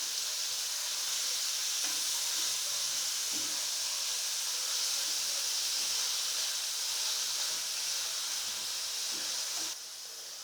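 Garlic fries in a hot pan for a homemade sandwich filling, giving a continuous, even sizzle and hiss close by, with faint stirring scrapes and no talking.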